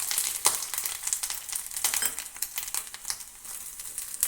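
Grated coconut fries in a pan for Kerala pumpkin and bean erissery, a steady crackling sizzle with scraping stir strokes and small crinkly pops, close and moderately loud, no voices.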